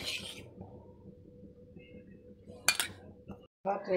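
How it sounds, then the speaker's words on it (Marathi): Spoonfuls of ghee going into a kadhai on a gas stove: a low gas hum runs underneath, broken by a sharp metallic scrape and clink of a spoon against the pan near the end. "त्यात आपण आता 2 चमचे साजूक तूप घालणार आहोत"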